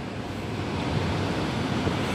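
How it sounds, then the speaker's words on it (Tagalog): Strong wind roars steadily without letup during a rainstorm, a broad, rushing noise buffeting the microphone throughout. "humahagibis ang hangin"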